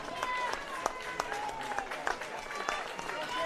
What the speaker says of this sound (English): Gets the applause from the audience behind her.